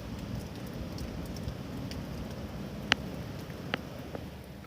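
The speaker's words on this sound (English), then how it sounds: "It's raining outside." Rain falls steadily outside, a soft, even hiss with a few faint ticks of drops, quiet and without voices.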